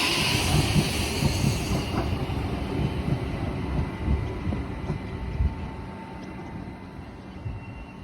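A train rumbles past in a South Australian suburb with a low, rolling clatter that fades gradually, no voices.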